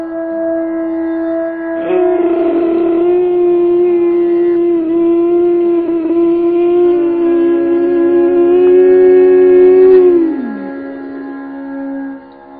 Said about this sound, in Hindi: इसी ध्वनि में जब निरंतरता आती है तब होता है यह उज्जाई प्राणायाम